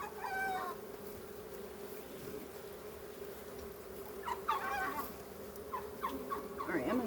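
Honey bees from an opened hive give off a steady, moderate hum that runs through the whole stretch, while chickens cluck and call nearby.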